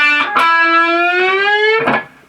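Electric guitar playing a riff: a single sustained, distorted note slowly bent upward across about two seconds, with brief picked attacks at start and end, heard alone.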